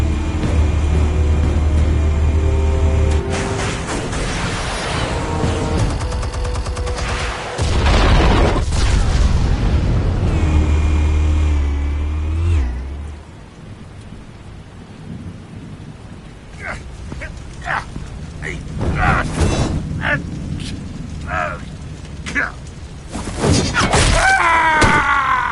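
Explosions in a Batman video game: heavy booming blasts and rumbling roll loudly for the first dozen seconds, then sharper scattered bursts break through a quieter stretch.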